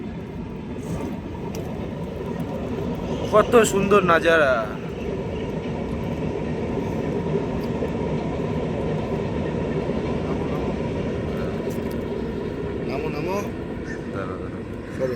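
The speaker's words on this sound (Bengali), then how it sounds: "ওই যে ট্রেন যাচ্ছে দেখো ট্রেন" A train rumbles past beside village fields during the monsoon, a steady continuous roar from a moderate distance, while a voice talks over it.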